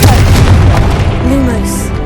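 A Confringo fire spell blast in Hogwarts Legacy, a loud booming burst that fills the whole short moment with dense rumbling low energy and a brief higher whoosh trailing off.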